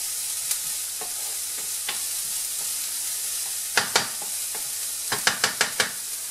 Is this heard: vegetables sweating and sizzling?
yes